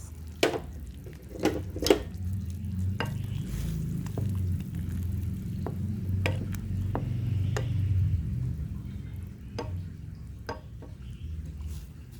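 Miswa noodles and spring onions going into a cooking pot: a soft simmering bubble and rumble with scattered clicks and knocks of a utensil against the pot, quiet and close.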